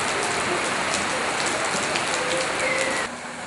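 Afternoon rain in Guatemala's rainy season hisses steadily on surfaces nearby, with scattered drips standing out, then eases slightly near the end, and no one speaks.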